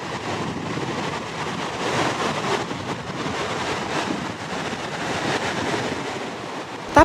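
Steady, broad roar of surf breaking at Kuta Beach in Bali, continuous wash of waves with wind noise, no voices.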